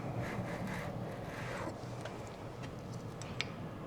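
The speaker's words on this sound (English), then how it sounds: "I'm gonna be very careful with this, and this is going to trim off the excess veneer." A banded edge trimmer shaves excess wood veneer from the edge of a painted black dresser, giving a steady close scraping, rasping cut with a few light ticks near the end, heard alone without talk.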